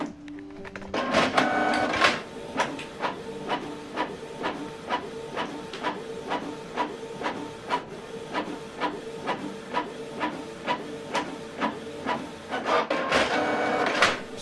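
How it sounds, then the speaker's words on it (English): A Canon printer prints a document with a steady run of rhythmic mechanical strokes and a soft hiss, close and unaccompanied by talk. "this document now is going to print out from this printer"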